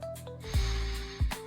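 Two sharp, close nasal sniffs of Merchant of Venice Venetian Blue fragrance, spaced about a second apart over a faint tonal background.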